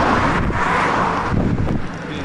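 Strong wind buffets the microphone in loud, broadband gusts beside a highway while cycling, with a roar of passing road traffic, including a KamAZ truck, underneath.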